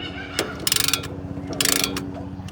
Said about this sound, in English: we'll quickly compress these pistons back into the brake caliper